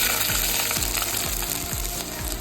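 Garlic, curry leaves, mustard seeds and cumin fry in hot oil for a cabbage and moong dal curry, a loud close continuous sizzle with repeated low scraping thumps as the pan is stirred.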